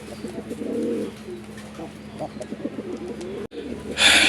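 A male pigeon coos close by in a series of low, throaty, rolling calls, followed by a brief burst of brighter noise at the end.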